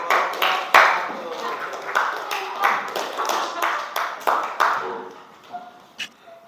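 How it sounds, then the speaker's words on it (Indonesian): A classroom of students claps for a presenting group during a teaching session. The scattered, uneven hand claps taper off to a few last strikes, and voices murmur underneath. "Beri tepuk tangan untuk kelompok 1"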